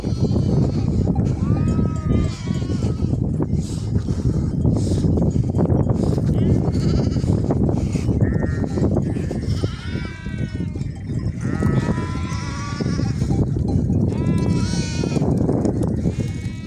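Several lambs bleat repeatedly in a busy Anatolian farm pen, overlapping high wavering calls close by over constant livestock noise, with someone talking now and then.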